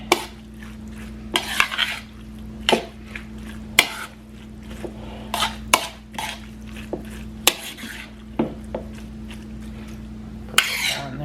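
A spoon scrapes and clinks around a dish as sauce is stirred into stuffed pepper filling, giving a steady run of uneven knocks and scrapes over a constant low hum.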